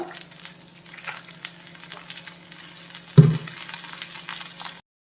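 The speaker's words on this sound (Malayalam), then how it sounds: "ഒരു സ്പൂൺ നല്ലെണ്ണ ഒഴിച്ചു കൊടുക്കാം" An oats dosa sizzles steadily on a pan, broadband frying hiss throughout, with a brief louder burst near the end as a spoonful of sesame oil is poured on, then it cuts to silence.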